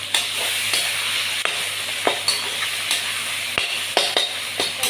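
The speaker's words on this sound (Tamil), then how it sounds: "இந்த தக்காளியை போட்டு கொஞ்சம் வதக்கலாம்" Half a cut tomato sautéing in a pan, with a soft continuous sizzle and frequent clicks and scrapes of stirring against the metal, and no voices.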